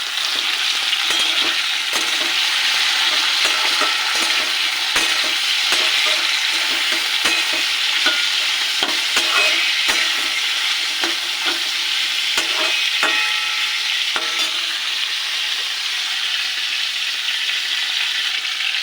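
Drumsticks (moringa pods) fry in a pan with a loud, steady sizzle, broken by occasional clicks and scrapes of stirring.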